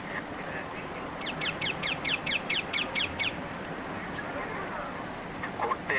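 Rose-ringed parakeets in Hyde Park, London, give a quick burst of bright, repeated chirps in a short rhythmic series, heard over a steady outdoor park background with a few scattered calls afterward.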